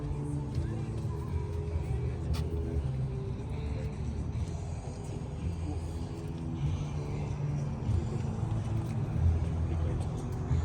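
A Toyota car idling at a car show, a steady low engine rumble that runs throughout, close up, with people chatting over it.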